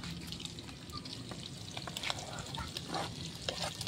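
Garlic, onion, ginger and pepper fry in a pan with a soft, steady sizzle and occasional stirring clinks, close but fairly quiet, with no voices.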